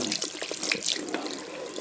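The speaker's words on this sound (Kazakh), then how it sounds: "Сосын мен жылы су ағыздым." Warm tap water pours steadily into a sink, a close, even rush of splashing flow with no voices.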